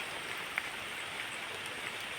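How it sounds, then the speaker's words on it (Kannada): Light rain patters steadily on a garden as a soft, even hiss, with an occasional single drop standing out near the microphone. "ಈಗ ಮಳೆ ಬಂದು ಬಿಟ್ಟಿತಲ್ಲ"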